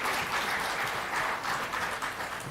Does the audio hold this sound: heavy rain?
no